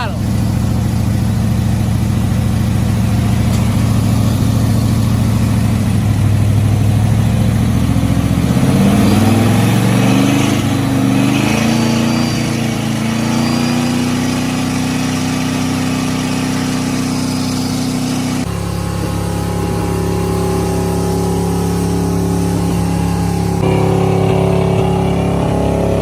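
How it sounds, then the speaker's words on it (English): A 1979 Ford engine revs hard at full throttle, a loud rising roar with strained, warbling pitch sweeps mid-clip, then an abrupt drop to a rougher lower running tone, with a voice speaking over it. "Alright, now or never, full throttle."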